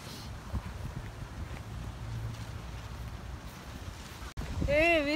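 Blustery wind at a kite-flying outing buffets the microphone with a continuous rumbling roar, and a short high whistling tone cuts in at the end.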